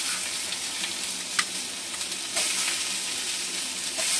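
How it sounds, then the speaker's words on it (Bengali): Chopped tomato frying in a pan with onion and capsicum, a dense, close hiss of sizzling oil with a few brief spatula clicks and a surge of louder sizzle partway through, no speech. "এবার এর মধ্যে আমি টমেটো কুচিটা দিয়ে দিচ্ছি।"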